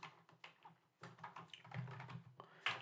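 Soft keystrokes tap unevenly on a computer keyboard as a formula is entered into a Google Sheets spreadsheet, the faint clicks close and quiet with brief pauses between bursts.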